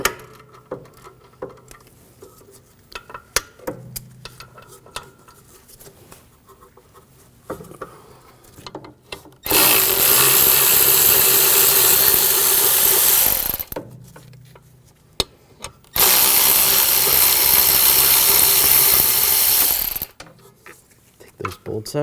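Brake caliper and bracket bolts on a 2001-2009 Volvo S60 being loosened with a 13mm socket: two loud, sustained mechanical bursts of about four seconds each, separated by quieter workshop clatter and light handling noises.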